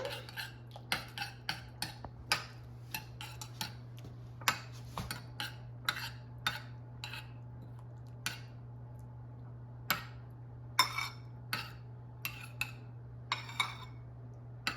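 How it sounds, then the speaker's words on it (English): A spoon stirs sour cream into a bowl of Santa Fe soup, clinking against the dish in irregular light taps over a steady low hum, close by and without speech. "And add sour cream and mix it in."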